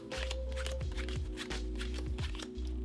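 Playing cards dealt one by one off a stacked deck during a self-working card trick, giving a run of soft snapping flicks and slides close by over a steady low background hum.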